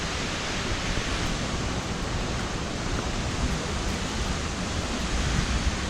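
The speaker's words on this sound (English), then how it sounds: "It's raining right now, and I think the flow of the waterfall would be high." Rain falls near a waterfall in North Goa, forming a dense, constant broadband roar of water that fills the whole stretch evenly, with no voices.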